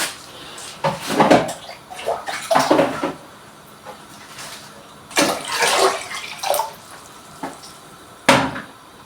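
Water for cooking spaghetti poured into a pot at home, arriving in irregular splashing bursts with short gaps, mixed with light clatter of the pot and kitchen handling, fairly close.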